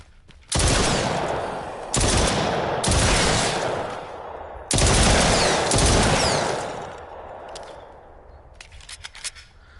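Gunfire in the VR survival shooter The Brookhaven Experiment, played with an aim controller: loud, close bursts of rapid shots in several long volleys with short gaps, ending in sparse clicks.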